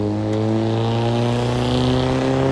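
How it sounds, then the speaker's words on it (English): A loud, steady engine hum from a car passing nearby, holding a constant drone with a slight swell toward the end. "listen to that car."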